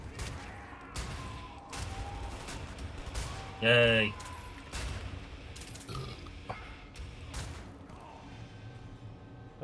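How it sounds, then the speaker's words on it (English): Gunfire in the video game Wolfenstein: The New Order comes as repeated sharp bursts and cracks with mechanical clanks, and a brief synthetic tone partway through. Someone talks over the shooting. "We're getting shot at from somewhere."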